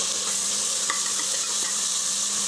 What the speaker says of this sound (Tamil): வெங்காயம் பொன்னிறமாக வதங்குற வரைக்கும் வதக்கிட்டு